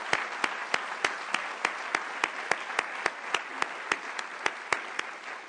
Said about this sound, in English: So how about a round of applause for Ms.